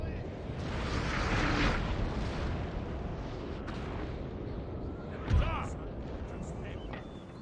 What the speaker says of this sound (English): These cannons are just racking up kills and experience.